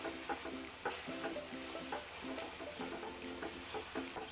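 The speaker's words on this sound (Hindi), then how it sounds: "सूजी को आपको हल्की आंच पर ही भूनना है" Semolina roasting in hot ghee over a low flame, a soft steady sizzle with irregular scraping and stirring strokes of a spoon in the pan, close and fairly quiet, no talking.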